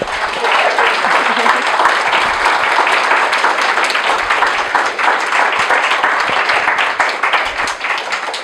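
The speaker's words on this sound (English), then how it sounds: "can we get a round of applause, please?" An audience breaks into steady, loud applause at a panel discussion, dense clapping filling the room without a pause from start to finish.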